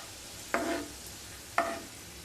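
Sliced onions frying in oil for birista, heard as two short bursts of sizzling spatter about a second apart over a quiet background, near and clear.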